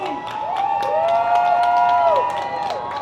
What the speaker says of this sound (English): Y'all hear the cheering?